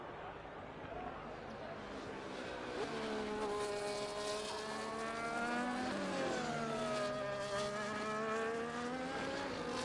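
Race cars lapping the Brazil circuit in a racing video game, high-pitched engines whining and sweeping up and down through gear changes, with a voice talking over them throughout.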